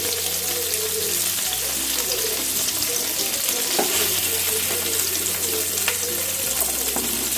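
Paneer pieces fry lightly in a pan for palak paneer, giving a constant close hiss of sizzling oil with faint occasional clinks and no talking.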